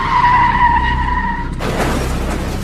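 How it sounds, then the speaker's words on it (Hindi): A car's tires screech loudly in a skid, the squeal holding for about a second and a half before a broad crash-like burst as the vehicle strikes a man walking on his morning walk. "ना जाने कहां से एक गाड़ी आई और उन्हें जोर की टक्कर मारकर निकल गई।"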